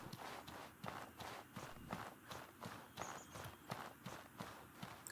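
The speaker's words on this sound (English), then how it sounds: "I can hear them stomping about." Heavy creatures stomping about in the game Outward, a steady rhythm of thudding footsteps repeating at close range, moderately loud and unbroken for several seconds with no talk.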